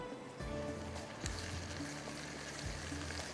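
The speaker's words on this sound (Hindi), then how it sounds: "मैं प्याज का पानी डाल देती हूँ" Onion water poured into a hot pan while cooking mash dal, a close crackling sizzle that flares with a few sharp bursts and settles into steady frying.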